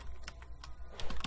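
Keystrokes on a computer keyboard while entering C# code for a Fibonacci exercise, a handful of separate clicks spaced irregularly, close and fairly quiet, with no talking.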